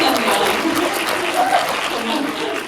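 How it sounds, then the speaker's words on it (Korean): An audience applauds at a movie Q&A screening event for the film 1987 at CGV Yeongdeungpo cinema, a dense, loud, continuous clapping from a full theater crowd. "네, 박수 부탁드립니다."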